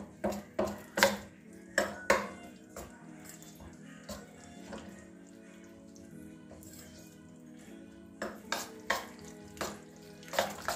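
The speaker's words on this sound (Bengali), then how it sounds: "ভালো করে মিশিয়ে নিচ্ছি একটা হাতা দিয়ে" Cabbage paratha filling is stirred with a ladle in a pan, giving a series of close, sharp scraping and clinking strokes in bursts, quieter in the middle, with faint background noise.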